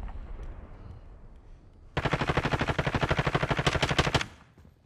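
A rapid, loud string of automatic gunshots from Call of Duty Warzone at a hotel block, about two seconds of evenly spaced shots ending abruptly after a quieter lead-in.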